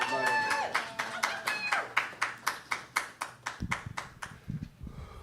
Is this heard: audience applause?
yes